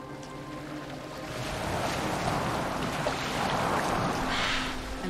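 A boat moving across open water in Assassin's Creed Valhalla, with a steady broadband wash of waves and wind that swells slightly midway and holds at a moderate level, no talk.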